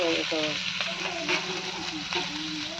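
Fish frying in a pan of hot oil for a curry of koi, magur and shingi fish, a steady close sizzle with crackling pops that runs throughout the clip.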